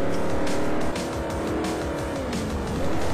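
Race cars in Forza Motorsport 4 roar continuously at high revs, engine pitch rising and falling with gear changes, with faint tire squeal mixed in and no talking.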